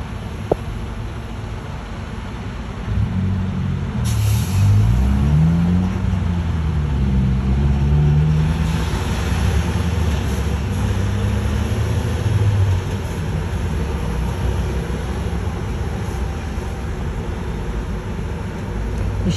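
A Ford Windstar minivan pulls away from where it was parked across the street. The engine note rises and holds steady, fairly loud and close, then slowly fades amid constant background hiss.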